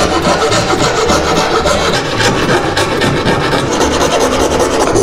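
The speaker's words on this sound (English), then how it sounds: "So I clamped the paddle to the edge of a table using our coping saw." A coping saw cuts through a wooden paddle clamped to a table edge, a loud, steady rasping stroke repeating close by without pause.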